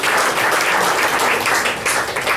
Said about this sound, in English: And a big round of applause for the supervisor.